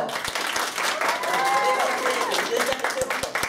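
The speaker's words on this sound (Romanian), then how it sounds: "aplaudați-o!" Audience applause at a comedy magic show, a steady wash of clapping filling the room for a few seconds, with some voices and cheers mixed in.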